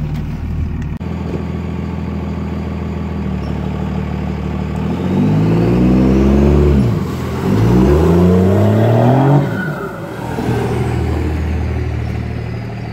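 A Cummins diesel pickup truck revs hard and accelerates, with rising and falling engine sweeps climbing through the gears over a steady cabin drone, loud and close.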